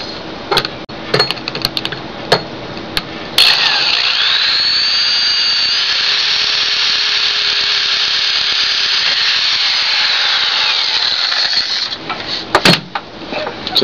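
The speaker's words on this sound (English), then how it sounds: "I'm drilling some holes here to attach it to this piece of plywood" Power drill boring holes into plywood for a homemade router table, a steady high whine running for about eight seconds after a few short clicks and handling knocks, then stopping with more clatter.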